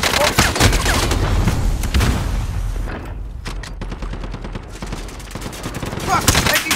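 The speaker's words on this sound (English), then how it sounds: "Taking fire!" Sustained automatic gunfire rattles through a Call of Duty: Warzone firefight, rapid bursts stacked into dense volleys with a brief lull midway before shooting picks up again, loud and close, with chatter mixed in.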